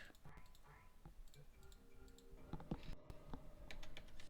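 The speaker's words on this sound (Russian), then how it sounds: "Клавиатура, мышь." Quiet keyboard typing and mouse clicks from someone playing Portal 2 on a computer, heard as scattered taps and sharper clicks, with a low voice talking close by.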